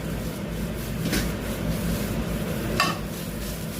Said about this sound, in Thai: ผัดผัดให้เครื่องมันหอมนะครับ